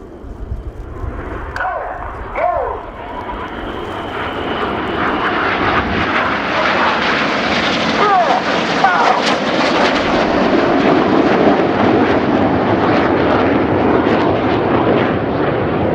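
Royal Air Force Red Arrows jets roar past in formation during a flying display at RIAT. The engine noise builds into a loud, sustained, rushing pass, and a commentator can be heard under it.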